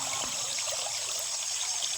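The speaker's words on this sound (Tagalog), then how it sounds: "ngayon ilog pa naman siya, kaya lang kunti na lang ang tubig" A shallow river runs low over its bed, a soft, steady trickle of water flowing quietly and evenly, with no voices present.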